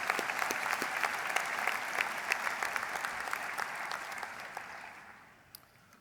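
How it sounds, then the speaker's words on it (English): Applause at a university graduation ceremony greets the new Vice Chancellor: a broad, steady wash of clapping from a large audience that gradually tapers off near the end. "may we again give him a round of applause as the new Vice Chancellor"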